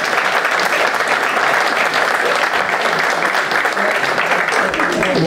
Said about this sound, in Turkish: Alkışlarımız.